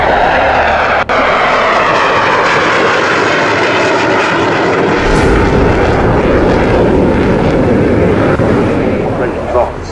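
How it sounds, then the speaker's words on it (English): A fixed-wing aircraft engine roars at maximum power during an air show display, loud and sustained, rising into a heavier surge midway as it passes close by. "Maximum power to reach 200 knots"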